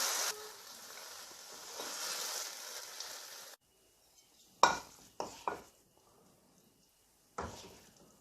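Bhindi masala being spooned from the pan into a serving dish: after a stretch of soft hiss comes a quiet pause, then a few sharp metallic clinks and scrapes of a spoon, spaced irregularly and close by.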